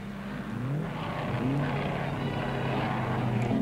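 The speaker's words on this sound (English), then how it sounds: "Here, on the seventh lap of the Bathurst 100, Mildren heads Stillwell." Racing cars lapping the 1960 Easter Bathurst 100 at Mount Panorama, with a steady engine drone and rising and falling pitch sweeps as cars pass, heard at moderate distance throughout.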